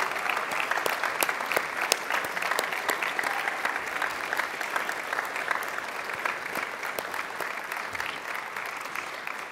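A large audience at a secondary school awards ceremony claps steadily and densely for the whole stretch, an even, sustained wash of applause with no talking.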